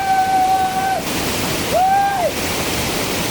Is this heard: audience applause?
no